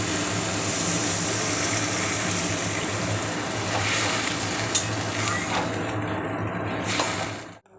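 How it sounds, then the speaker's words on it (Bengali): Fish roe fritter curry (rui fish egg bora jhol) simmering after water is added, giving a steady close bubbling sizzle with stirring scrapes throughout, ending abruptly. "এবার আমি জল দিয়ে দেবো"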